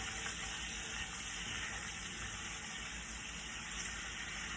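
Quiet, steady rush of tap water running as a cooking pan is rinsed in a kitchen sink, a continuous faint hiss with no talking.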